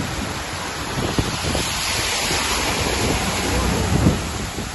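Floodwater rushes and roars steadily like surf, with wind buffeting the microphone and occasional thumps, continuous and close, during flooding in Jalandhar, Punjab.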